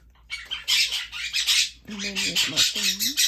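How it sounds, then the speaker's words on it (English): Pet birds squawk indoors in harsh, repeated raspy calls that come in close bursts, while a person talks briefly under the noise. "Sorry about the birds."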